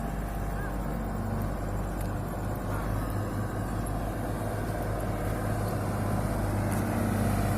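Inside a fire truck driving to a landfill fire at Tamangapa Antang, a steady engine drone and road rumble fill the cab, with faint high beeps or tones now and then.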